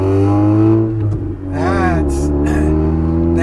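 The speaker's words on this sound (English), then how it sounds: "we've got a really, really noisy 96 Honda Accord with" A noisy 1996 Honda Accord with a damaged muffler rumbles in a loud, low engine drone with a pitch shift partway through, while a person talks over it.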